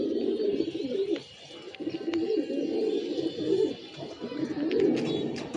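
Pigeons coo in low, rolling, continuous murmurs close by, with a few faint chirps rising above the steady cooing.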